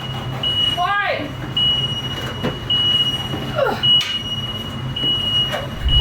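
A new Ford Transit van sounds its warning beeper in repeated, evenly spaced high tones, loud and close, while people talk and exclaim over it.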